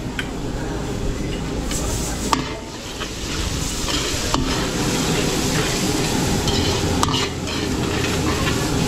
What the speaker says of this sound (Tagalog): So isusunod na natin itong Sili.